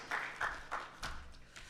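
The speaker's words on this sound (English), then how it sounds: "please give a huge round of applause" An audience at an IT sales conference claps briefly in a short burst of applause, a few uneven swells that quickly fade.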